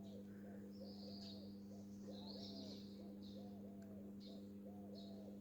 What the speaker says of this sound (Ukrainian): Птахи зранку співають добре